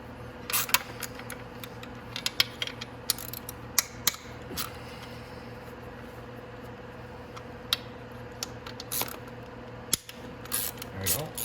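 Bolts being loosened on a Venom X18 50cc automatic motorcycle while changing its drive belt: scattered close metallic clicks and ratchet-like ticks over a faint steady hum, with brief quiet gaps between bursts.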